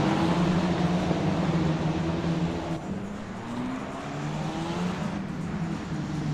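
F4 race cars accelerating off the line at a race start in a sim racing game at Laguna Seca, a loud steady engine drone with rising pitch sweeps as the cars rev and shift, no talk.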